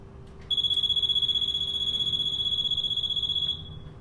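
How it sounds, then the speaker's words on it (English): A fire alarm control panel sounds its supervisory alarm buzzer, a loud, steady high-pitched tone that holds for about three seconds and then cuts off, heard alone over a low room hum. "The next example is a supervisory alarm."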